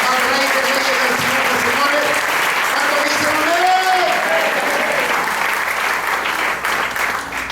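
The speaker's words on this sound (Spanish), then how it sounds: "Damos un aplauso en esta preciosa mañana" A church congregation applauds during a Sunday-morning sermon, loud sustained clapping with voices and tonal sounds mixed in throughout, easing slightly near the end.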